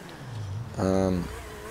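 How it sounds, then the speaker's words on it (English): A car engine in Grand Theft Auto 5 gives a brief buzzing rev that swells for under half a second, then drops back under quiet background sound. "just listen to that. The noise of the engine."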